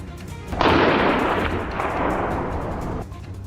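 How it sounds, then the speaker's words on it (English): A single heavy boom from a hunting rifle fired at a wild boar hunt, a loud blast with a long rumbling decay that fades after about two and a half seconds. "Took a deep breath and pulled the trigger."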